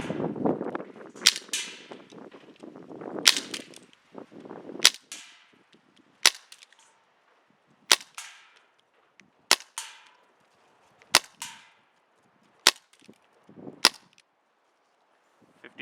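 An Elite Force H8R CO2 airsoft revolver fires .20 gram BBs outdoors in a crosswind. Sharp, snappy pops come about every one and a half seconds, around nine in total, with wind noise and handling sounds between the shots.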